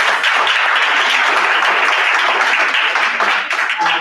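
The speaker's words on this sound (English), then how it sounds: "can we give him another round of applause" Conference audience at an AI digital shift event gives a round of applause, a loud, full burst of many hands clapping that runs steadily and thins slightly near the end.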